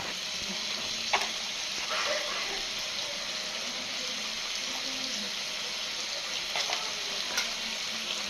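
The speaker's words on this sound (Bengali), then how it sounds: "সবগুলো মশলা একসাথে খুব ভালো করে কষিয়ে নেব" Spices being fried and stirred together in a pan, a low steady sizzle with a few scattered scrapes and clinks spread across, fairly faint and without speech.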